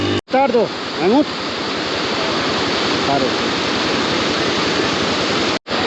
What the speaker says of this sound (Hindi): ये जो पानी है ना ये ऊपर ग्लेशियर से आ रहा है।